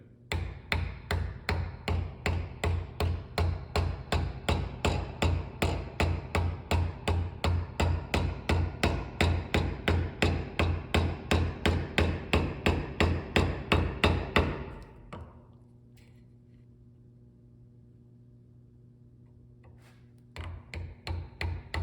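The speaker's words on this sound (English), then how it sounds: "now we're cutting along the grain, so we need to be tapping gently here" A chisel is tapped gently along the wood grain while cutting a mortise and tenon joint, giving a long steady run of close, evenly spaced knocks at about three per second, then a pause and a few more taps.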